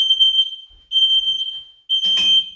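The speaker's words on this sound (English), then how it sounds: "The smoke alarm is working." A loud, high-pitched smoke alarm sounds in three long beeps close by in a house, each tone held steady with short gaps between.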